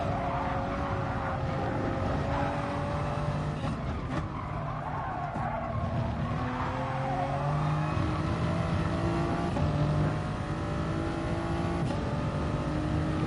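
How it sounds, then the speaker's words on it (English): A race car engine in a racing video game holds a fairly smooth, tame drone with rising and falling pitch through gear changes, plus brief tire squeal, steady and alone with no talk. "It sounds so tame, this car"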